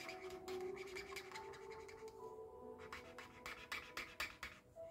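Scratching on paper, likely an advent calendar being scratched off, gives a close, steady rasping run of short strokes, growing more uneven and louder toward the end, with no talk.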